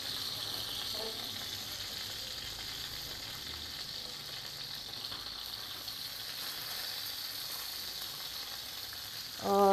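Loud, steady sizzling of garlic frying in hot oil, a constant crackling hiss throughout, with a brief clatter at the very end.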